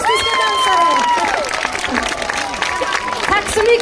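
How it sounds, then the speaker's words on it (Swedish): A live audience applauds and cheers for dancers at a Swedish National Day celebration, a dense, steady wash of clapping with crowd noise, while high whistles or music tones trail through the opening seconds. "En varm applåd till våra fantastiska dansare"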